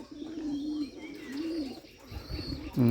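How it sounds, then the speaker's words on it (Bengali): Pigeons cooing inside their coop, a male Bengali pigeon among them, low soft throaty coos rolling in repeated waves, fairly quiet and close, with no talking. "দেখুন কবুতরগুলো কি সুন্দরভাবে ডাকাডাকি করতেছে খোপের ভিতর"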